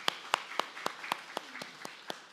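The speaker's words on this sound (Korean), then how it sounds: "우리 박수로 축하해 주시기 바랍니다" A small church congregation at a Sunday worship service offers sparse applause to congratulate a newly received member: about nine distinct, evenly spaced claps, faint and fairly close, with no talking over them.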